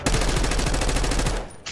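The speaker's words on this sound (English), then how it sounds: "Enemy marksman shooting" Rapid automatic gunfire from an enemy marksman in Black Ops 6, a loud, dense burst of shots lasting over a second before cutting off abruptly, with a brief sound following.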